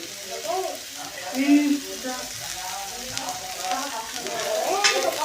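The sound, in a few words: green chillies frying with softened onions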